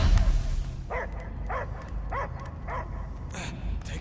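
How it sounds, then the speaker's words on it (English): A dog in a Marvel video game barks about five times in short, regularly spaced yelps. The barks sit over a low rumbling game soundtrack. "I hear only barking."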